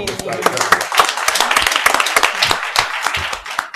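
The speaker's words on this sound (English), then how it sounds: "And I would like to continue this applause for your entire staff" Applause for a school staff at a Warrensville Heights City Schools gathering: dense, sustained clapping from a room full of people with scattered sharp claps, running steadily throughout with some voices mixed in.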